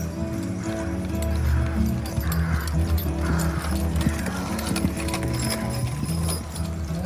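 Draft horses in a tandem hitch pulling a wagon at a show class, with a steady clip-clop of hooves on the ground close by, a whinny, and people talking and announcing underneath.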